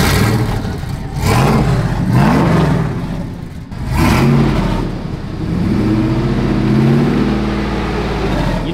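A truck engine revs repeatedly, rising and falling in deep rumbling surges through a throaty aftermarket Flowmaster exhaust, loud and close.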